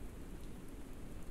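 Heavy rain falling outdoors, a steady, dense rushing hiss with a low rumble underneath, even and unbroken, with no voices.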